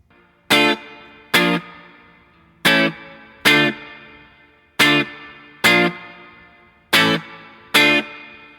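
Distorted electric guitar strums bar chords one at a time, each hit ringing briefly before the next, in a steady slow rhythm.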